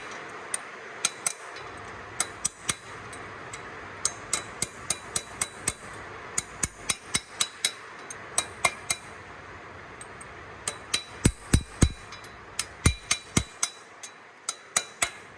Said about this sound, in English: Just need to tap them all on.